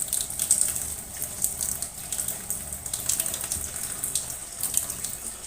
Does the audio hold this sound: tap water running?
yes